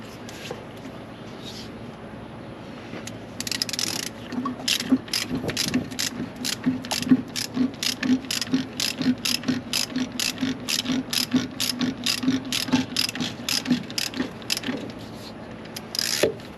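Ratchet wrench adjusting a truck's service brake with a type 20 brake chamber, a rapid run of close, crisp clicks in steady bursts, loud and alone.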